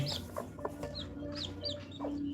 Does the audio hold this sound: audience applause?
no